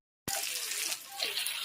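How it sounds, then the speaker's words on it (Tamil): Tamarind water being poured into a fish curry, a sudden liquid splash that starts abruptly and runs on as a steady pour, fairly close, with no talking. "ஊற்றிக்கிறோம் கொஞ்சம் புளி தண்ணி"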